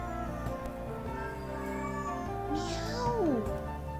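A house cat gives a single clear, rising-then-falling meow close by, heard over a steady bed of background music.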